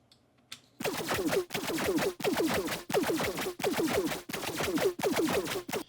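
A drum and bass screech synth patch built in Serum 2 plays as a chain of harsh, gritty, pulsing bursts in a steady rhythm, loud and alone after a brief quiet start.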